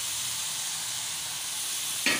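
Tomatoes and green chilies drop into a hot pan of minced meat and a sharp sizzle bursts up right at the end, over a steady close hiss of frying.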